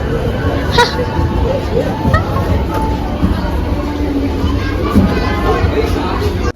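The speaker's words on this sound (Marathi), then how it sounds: "एवढी जास्त गर्दी आहे इथे सेल चालू आहे खूप जास्त गर्दी इथे गर्दी आहे" A dense murmur of shoppers crowding a clothing store during a sale, with continuous overlapping chatter filling the space and a nearby voice talking over it.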